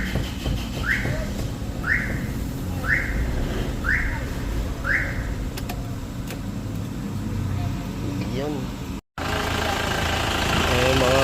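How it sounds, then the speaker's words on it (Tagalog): An Isuzu Crosswind diesel engine idles steadily after turbo and EGR valve cleaning and a tune-up, a continuous close rumble with a repeating whistle-like chirp early on and a brief dropout near the end. "oh, ganda ng tunog ng makina ni boss, ano?"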